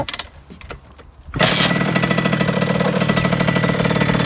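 A Yamaha DT 50cc two-stroke motorbike fitted with a 70cc kit fires up after a moment of faint fumbling, then settles into a loud, steady, fairly high idle, close by with no talk over it.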